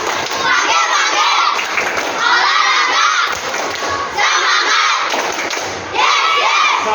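A crowd of schoolchildren at a morning school assembly claps in rhythm and shouts a chant together, loud and close, in repeated bursts of clapping and voices.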